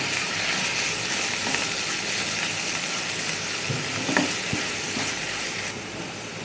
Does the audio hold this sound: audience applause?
no